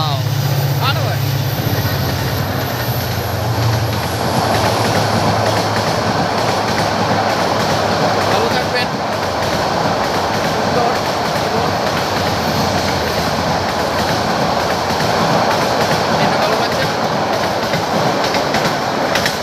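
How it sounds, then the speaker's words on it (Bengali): A train rumbles steadily through a deserted rural railway station at Khanabari in Raipura, Narsingdi, Bangladesh, with continuous loud wheel and carriage noise and clickety-clack for the whole stretch, while someone speaks over it. "ট্রেন চলে যাচ্ছে"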